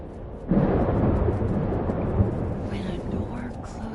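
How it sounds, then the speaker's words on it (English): A video game thunderstorm rolls in with a sudden heavy rumble that keeps roaring and crackling steadily for several seconds, loud and close, with no voices over it. "This storm... I've been through something like it before."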